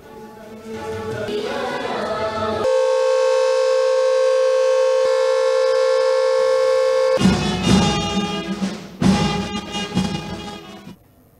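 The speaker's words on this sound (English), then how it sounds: "a 2-minute silence was observed in honor of the leader after the ringing of siren." A civil defense siren sounds at a Mahatma Gandhi death anniversary observance before a two-minute silence, a loud sustained steady wail with background crowd and band noise before and after it.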